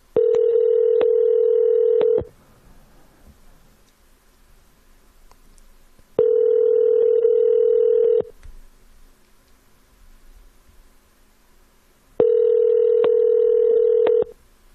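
An outgoing telephone call rings through a handset, three long, loud, steady electronic ring tones of about two seconds each, separated by roughly four seconds of quiet line hiss.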